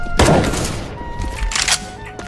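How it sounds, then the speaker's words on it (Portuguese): A flashbang grenade thrown in Counter-Strike: Global Offensive, a loud close bang with a crackling burst followed by a ringing tail and short bursts of game noise. "Deploying flashbang."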